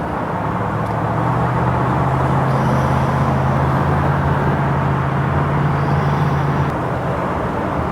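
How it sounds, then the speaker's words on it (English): A 1965 Ford Mustang convertible with GT options, engine held at steady elevated revs for several seconds, a loud, close, broadband rumble with a low droning tone, then easing off near the end, no talking. "I'll step on it for you so you can see it runs well."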